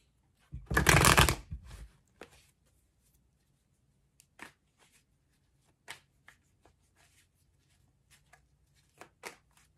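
A deck of tarot cards gets a loud, rapid riffle shuffle lasting about a second, followed by scattered soft taps and flicks as the cards are handled and laid out in a quiet room.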